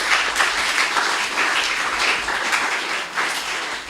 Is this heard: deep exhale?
no